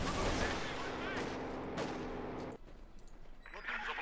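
Rapid PPSh submachine gun bursts and MG34 machine-gun fire crackle through a Company of Heroes 2 battle, dense overlapping volleys that drop away abruptly, followed by scattered distant shots and brief chatter.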